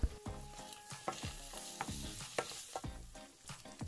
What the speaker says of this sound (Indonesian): Lalu langsung kita aduk-aduk supaya merata.